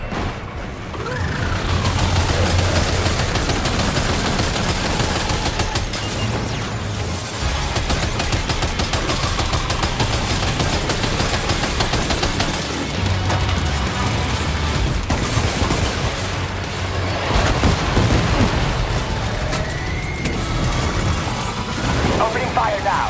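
Sustained gunfire and heavy mechanical combat noise in Death Stranding 2 during a fight with a giant ghost mech, loud and continuous with bursts of shots and booms throughout, partly under speech.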